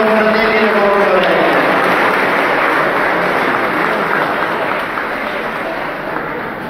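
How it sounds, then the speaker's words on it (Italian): Broad, dense applause from a church congregation for confraternity members at a Mass for Our Lady of Mount Carmel, loud and continuous at first and easing slightly toward the end, with brief singing or voices early on. "Ancora un applauso a tutti i confratelli e confratelli"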